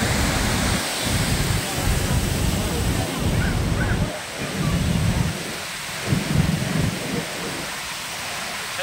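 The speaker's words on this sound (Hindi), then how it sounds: "छल छल करके हवा के साथ फुहारे का पानी भी आ रहा है।" Fountain spray and flowing water at Fateh Sagar lake in Udaipur, a dense continuous rushing hiss with wind gusts, loud and close, with low rumbling surges that rise and fall across the clip.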